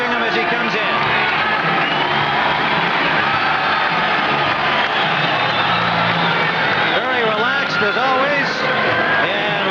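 A boxing arena crowd cheers as fighter Milton McCrory approaches the ring, a loud, sustained roar with whoops under a commentator's voice.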